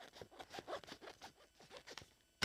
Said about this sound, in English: I'm going to cut about 7 inches here